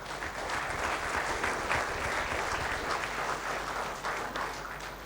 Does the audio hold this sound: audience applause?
yes